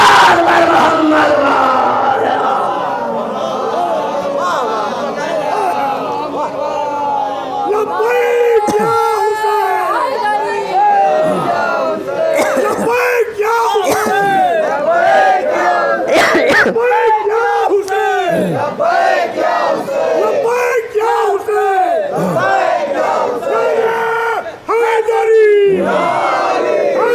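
A large gathering of worshippers at a religious sermon loudly chants salawat in unison, a dense, roaring wave of many voices rising and falling over nearly half a minute.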